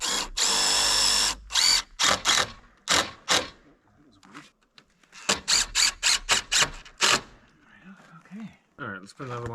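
Cordless power drill fitted with a small rusty bit drives screws to mount a solar panel on a chicken coop, with a long whirring burst, then repeated short trigger pulses as the screw seats, and a brief voice near the end.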